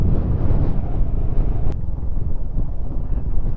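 Cold wind blows steadily at a mountain campsite, a constant rumbling gust buffeting the microphone, loud and close throughout with a brief click partway.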